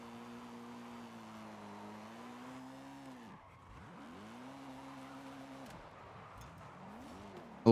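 A drifting BMW in a racing game, its engine tone swooping up and down as the e-brake and a clutch kick throw it sideways, with tyre squeal and a short loud hit at the end and no talking.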